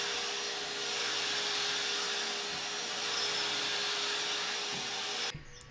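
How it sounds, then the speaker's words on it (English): A vacuum cleaner picking up cat fur off the floor during a weekend home deep clean, a steady, loud whirring drone that runs without a break and then shuts off sharply near the end. "it is still oddly satisfying to vacuum all the little fur from the grounds"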